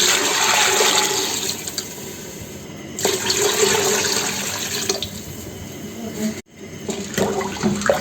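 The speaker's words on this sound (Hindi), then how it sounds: "जी हमने पानी शामिल कर दिए हैं" Water poured into a pot of red kidney beans cooking in masala, a steady close rushing pour with brief breaks, and someone talking faintly in the background.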